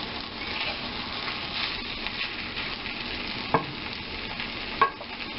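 Zucchini noodles in marinara sizzle softly in a pan while a utensil stirs them, steady low frying with a couple of sharp scraping knocks.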